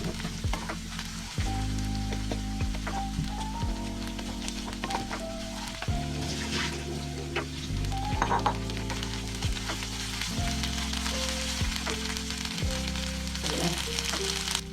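Onions fry in a pan for vegetable pulao under constant stirring, a steady broadband sizzle running beneath prominent tonal background music that shifts in steps.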